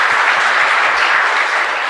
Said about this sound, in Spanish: fuerte aplauso para Nicole también